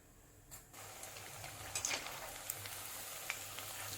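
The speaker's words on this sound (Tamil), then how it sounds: "இதே போல் நமக்கு மீதி இருக்கிறதையும் ஃப்ரை பண்ணி எடுக்கலாம்." Paneer pakoda pieces deep frying in hot oil, a soft continuous bubbling sizzle with a few small pops and spits, fairly quiet and unbroken with no talk.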